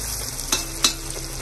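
Onion frying in hot oil in a pan, a loud close sizzle with two quick stirring scrapes and no talking.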